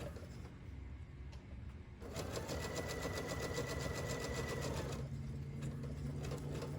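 A sewing machine stitches a fabric rope coaster, with a steady close mechanical whir and rapid needle rhythm that starts abruptly after quieter handling and runs for several seconds.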